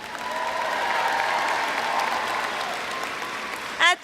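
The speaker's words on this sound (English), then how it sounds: "Please join me applauding for our professors." An audience at a 2016 San Diego Mesa College commencement applauds in a sustained, even roar of clapping that holds steady before a short burst of other sound at the very end.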